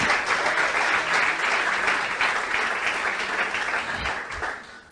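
A church congregation applauds, dense continuous clapping filling the room at a loud, even level for nearly five seconds before easing off.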